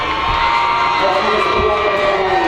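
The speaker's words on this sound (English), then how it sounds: "Fans giving a little scream at it." Football fans at a high school playoff game cheer and scream in the stands, a steady crowd roar that holds throughout with a few louder whoops rising out of it.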